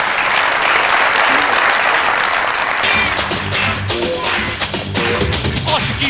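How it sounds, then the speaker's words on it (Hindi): A television comedy studio audience breaks into loud, sustained applause on a Pakistani talk show, then a band's music cuts in partway through while the clapping carries on over it. "बहुत सारी तालियां इनके लिए।"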